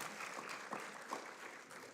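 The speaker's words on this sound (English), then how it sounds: "Let's give Zariel a round of applause." Brief, fairly faint applause from an audience at a school ICT event, praising a student who sang the national anthem; a soft patter of clapping with no talk over it.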